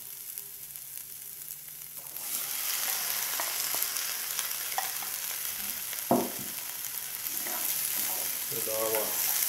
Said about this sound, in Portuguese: deixa fritar um pouquinho.